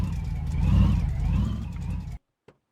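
Engine of an El Camino in the driving game My Garage, loudly running and revving as the car drives up onto a Ram truck, steady for about two seconds before cutting off abruptly, followed by a brief faint click.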